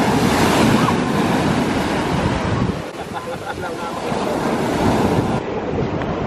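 Ocean waves surge and wash onto a beach at night under a full moon, a steady loud roar with wind buffeting the microphone and a brief lull midway.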